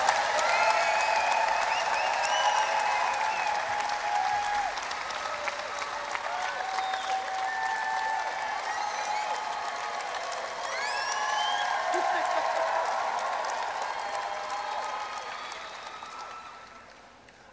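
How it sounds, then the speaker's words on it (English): A large crowd at a World Youth Day panel on faith and entertainment in Madrid applauds warmly and continuously for a speaker, with cheers and voices mixed in. The applause swells again midway, then fades away. "So please, a warm round of applause for Clarence Gilliard."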